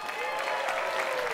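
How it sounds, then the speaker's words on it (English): A large press conference audience at EA's E3 2018 showcase applauds Unravel 2, a dense wash of clapping and cheering heard in a brief burst at moderate distance. "That's got like the biggest applause out of everything so far"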